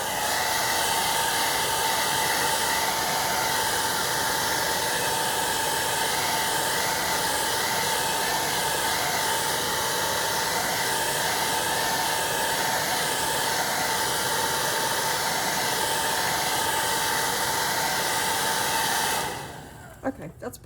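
A hair dryer blasting on damp watercolor paint, a loud, steady airy roar with a constant whine held close for about nineteen seconds before it cuts off abruptly, followed by a few faint knocks.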